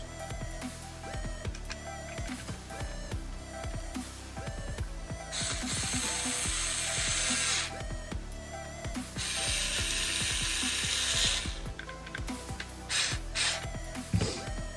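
Screws with finishing washers being driven into a dual-layer holster for a Wilson Combat SFX9, with steady ratcheting clicks and two longer whirring bursts from the driver, close and fairly loud.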